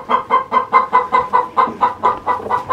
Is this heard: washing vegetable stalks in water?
no